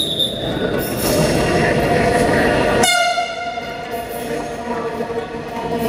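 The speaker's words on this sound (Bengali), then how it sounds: "ট্রেন আসছে।" A Dhaka Metro Rail train arriving, its loud rumbling roar giving way to a rising electronic whine and squeal as it pulls in close by.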